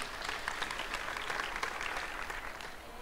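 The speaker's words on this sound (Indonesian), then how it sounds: "Kita berikan aplaus yang meriah untuk Summer." Audience applause for the speaker Summer at a talk show on Indonesian wastra textiles for modest fashion, a steady dense patter of many hands holding even for the whole stretch, moderately distant in a hall.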